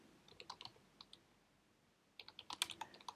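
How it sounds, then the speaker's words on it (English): Quiet, close typing on a computer keyboard: a few scattered keystrokes, a pause, then a quicker run of clicks. "So I'm going to type in"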